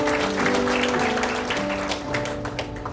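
A church revival congregation in Malang claps together in a dense, steady patter that holds for about three seconds, with sustained musical tones ringing beneath the hands.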